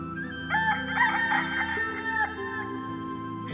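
A rooster crows a long, clear cock-a-doodle-doo, close and loud, with its harmonic call held for a few seconds against a quiet background.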